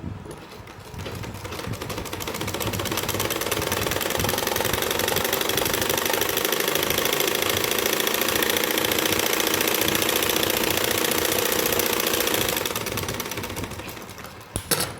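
Electric sewing machine running steadily as it stitches the back panel of palazzo pants, a continuous loud mechanical whir and rapid needle chatter sustained for about twelve seconds before slowing and stopping, with no voices.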